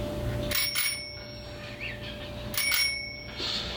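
A bicycle bell fitted to an electric scooter rings twice, a few seconds apart, each ring a bright, clear ding with a short ringing tail over quiet background noise.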